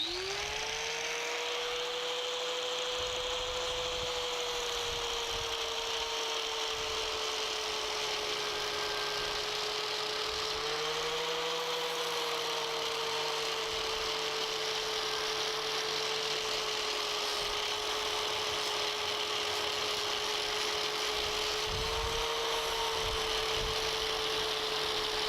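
A Zek pad spinning fast on a power tool while smoothing a surface, a steady, loud, continuous whine holding one pitch with slight dips as it presses on the work.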